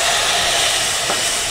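Water poured into hot spices in a pan over a strong flame sets off a loud, steady hiss that holds without a break.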